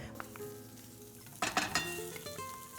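Hot Italian sausage fries quietly in a pan, a faint sizzle broken by a few brief scraping and clinking stirs.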